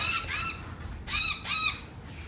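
A bird in an Australian garden squawks loudly in three harsh, downward-curving calls, one at the start and two close together near the middle, with quiet background between them.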